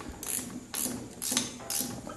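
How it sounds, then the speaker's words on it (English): A ratchet clicks while a half shaft is removed from a 1976 Corvette, in four quick bursts of close, loud metallic clicking with brief gaps between them. "using this with a ratchet instead of turning a wrench around every time is a big improvement"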